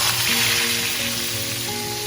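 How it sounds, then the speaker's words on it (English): Cumin seeds fry in hot oil with a dense, even crackling sizzle, close and loud, with a faint tonal hum running beneath it. "Allow the jeera to fry just a little bit in a few seconds"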